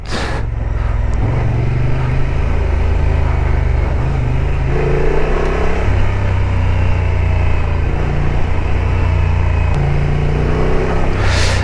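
A Honda XL750 Transalp motorcycle rides off-road on gravel in low gears with power set to minimum, its engine rising and falling through gentle shifts over a steady crunching roll. It sounds loud and close throughout, with no speech.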